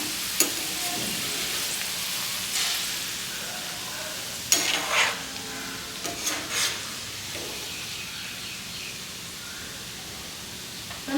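Potato pakodi frying in hot oil give a continuous soft sizzle, broken by a few brief scraping stirs and clinks around the middle, heard close with no talking.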